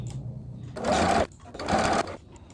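A sewing machine stitches quilt pieces right sides together along a quarter-inch seam in two steady whirring bursts separated by a brief pause, close and clear.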